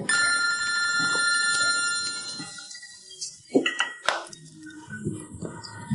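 Telephone ringing for an incoming call, a repeated electronic bell trill for the first few seconds, followed by clattering dishes and scattered household noise.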